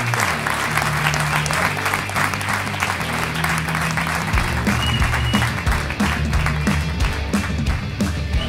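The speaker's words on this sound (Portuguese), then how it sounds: "Senhoras e senhores, um forte aplauso, Hugo Soares!" Loud, sustained applause from an audience at a comedy roast, a thick continuous clatter of many hands with steady musical tones playing underneath.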